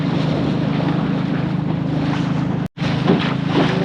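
Strong wind roars against a boat on the ride home, mixed with a steady low engine drone and water rush. The loud constant noise cuts out for a moment near the end, and no one speaks.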